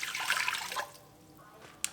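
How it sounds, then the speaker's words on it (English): Two cups of filtered water pour into an Instant Pot, a steady splashing rush that lasts under a second and then trails off to quiet, ending with a brief clink. "I'm going to dump in 2 cups of water, filtered water,"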